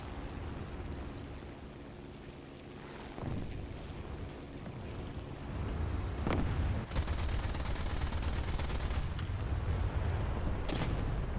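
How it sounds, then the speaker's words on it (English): Small bombs dropped on a target in War Thunder burst as a few sharp, separate blasts over a steady rushing drone of wind and engine. "tiny weeny bombs on here, so let's try and drop them on the target"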